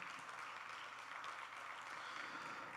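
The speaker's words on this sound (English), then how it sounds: "Please give them a huge round of applause" Audience applause at a student film festival, a steady broad wash of clapping that stays even and fairly faint throughout with no talk over it.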